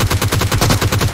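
Rapid automatic fire from a G3 rifle in the mobile battle-royale game PUBG Mobile, a loud, steady stream of about ten evenly spaced shots over a little more than a second, with no talk.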